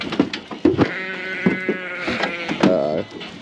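Sheep bleat repeatedly at close range on a farm, several wavering calls in quick succession, the last one long and quavering.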